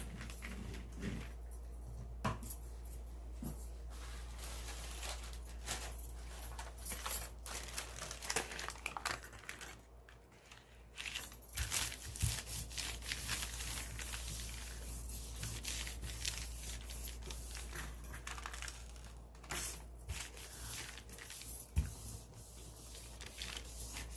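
Tissue paper crumpled and pressed against a gel printing plate during monoprint art-making, a steady close crinkling and rustling that runs throughout with brief quieter dips, no talking.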